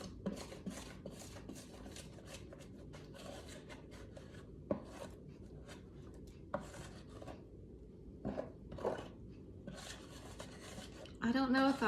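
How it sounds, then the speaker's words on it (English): A spatula scrapes jalapeño cornbread batter from a bowl in a series of close, soft rasping strokes with light clinks of utensil on bowl, ending in a louder burst of scraping. "I'm gonna scrape out every bit of it."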